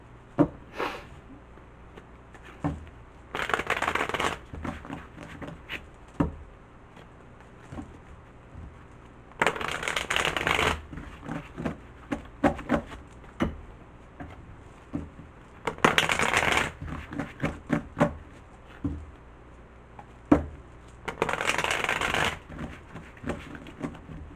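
Tarot cards being shuffled by hand in four loud bursts of riffling, separated by scattered soft taps and clicks of the deck being handled; no voices.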